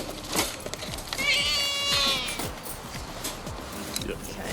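A terrified wild stray cat meows in drawn-out, wavering cries, loud and close, over a busy background of knocks and handling noise.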